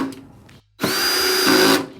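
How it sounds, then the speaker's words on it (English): Power drill driving a screw into the back of a Samsung Q80B QLED TV, a short whir, a pause, then a loud steady whine that winds down, close by. "Then you just want to go ahead and screw in the last 4 screws."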